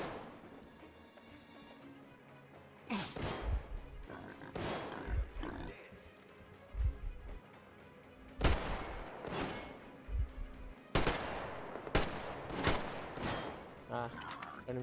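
Gunfire in the video game Metro Exodus: loud bursts and single shots, some clustered in quick volleys, spread across the clip between quieter stretches, with distant in-game background noise underneath.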